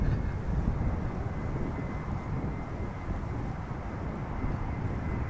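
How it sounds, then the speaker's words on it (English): A Sky Express Airbus A320neo airliner arriving at Amsterdam Schiphol in gusty crosswind, a continuous low broadband rumble of engines and wind at moderate distance, steady throughout with no voices. "is another A320neo from Sky Express, bringing us more bliss from Greece"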